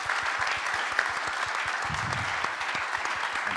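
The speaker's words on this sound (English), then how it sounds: "another round of applause for our esteemed panel" A live audience applauds a panel at an academic event, steady dense clapping sustained throughout at moderate distance with no voices over it.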